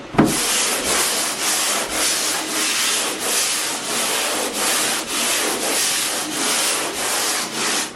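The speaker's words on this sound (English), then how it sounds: "I'm just gonna sand that out by hand" Wall putty being sanded flat by hand, a loud close rasping rub in steady back-and-forth strokes, about two per second, with no voices.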